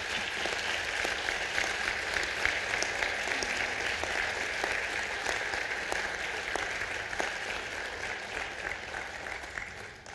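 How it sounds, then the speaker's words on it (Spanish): A crowd of attendees at a book launch event applauds steadily for about ten seconds, many hands clapping in a dense, even wash that stays fairly loud throughout and tapers slightly at the end. "Yo le pediría un aplauso a todos los concurrentes."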